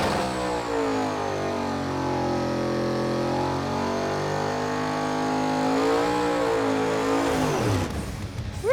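A heavily modified drag car called Blasphemi, fitted with coil-on-plug ignition, dry sump, a new clutch and transmission and fresh rear tires, roars hard down a drag strip pass, its engine note climbing through gears loud and close before a sudden cutoff near the end.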